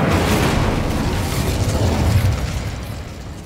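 Incendio fire spell from Hogwarts Legacy, a loud sustained whooshing roar of flame with a booming low rumble, steady for about three seconds before easing slightly at the end.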